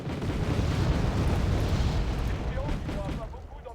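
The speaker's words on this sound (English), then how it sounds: "A lot of explosions going up there." Continuous rumbling explosions and booming artillery blasts in the real-time strategy game Wargame Red Dragon, dense and loud throughout, fading slightly near the end.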